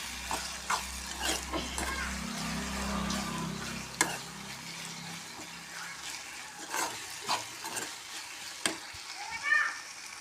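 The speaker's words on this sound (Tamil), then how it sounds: "வெங்காயம் தக்காளி காஞ்ச மிளகாய் 2 போட்டிருக்கோம். நல்லா வதக்கணும்." Onion, tomato and two dried red chillies sautéing in a pan, with a low, soft sizzle under scattered spatula scrapes and taps, close and fairly quiet, the stirring strokes irregular.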